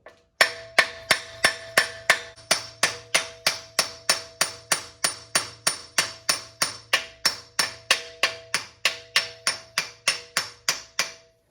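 Steady metallic hammer blows drive an aluminum rod against the front axle of a BMW E90 xDrive, about three strikes every second, loud and ringing with a sharp attack and quick decay, no talking.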